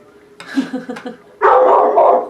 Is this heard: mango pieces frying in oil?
no